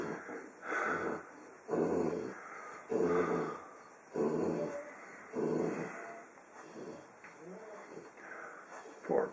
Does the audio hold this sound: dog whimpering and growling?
yes